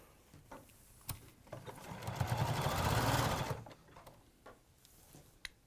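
A domestic sewing machine stitches a centre seam on triangles of fabric for a quilted wall hanging, one short burst of rapid whirring lasting about two seconds amid quiet clicks and handling noises.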